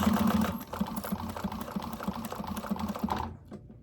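Sewing machine stitching a bag pocket at a slow, uneven pace, a few seconds of close, ticking needle strokes that stop just before the end.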